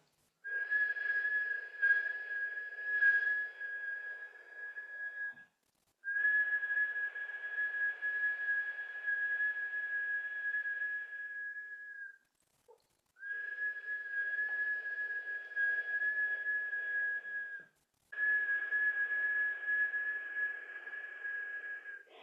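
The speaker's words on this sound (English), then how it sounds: "And as you whistle, you're really stretching up, you're lifting your heart up towards the sky." Sustained whistling during a kundalini yoga posture: four long, steady single-pitch whistled tones, each several seconds long and separated by brief pauses for breath, with no talking.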